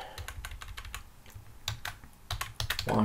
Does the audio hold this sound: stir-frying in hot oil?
no